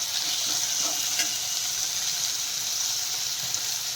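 Ginger garlic paste fries in a pan, giving a steady, even sizzle at close range with no talking.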